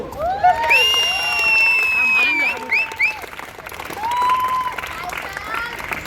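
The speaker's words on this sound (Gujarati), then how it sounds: "ચાલો ચાલો ભાઈ તાળી પાડજો." Applause and cheering from a crowd of players at a box cricket prize ceremony in Surat, steady clapping lasting throughout with high shouts and whistle-like calls layered over it.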